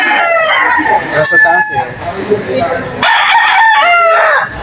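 Roosters crow loudly and close at a busy chicken market in Lipa, Batangas, two long drawn-out calls separated by clucking and market bustle, with a person speaking briefly.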